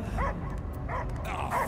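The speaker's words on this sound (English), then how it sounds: "I hear only barking." A dog barks and yips in a video game, Marvel's Guardians of the Galaxy on PS5, giving three short bursts of bright barking spaced apart over a low ambient hum.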